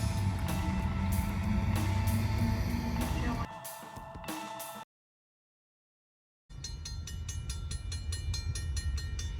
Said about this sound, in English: with a westbound loaded rock train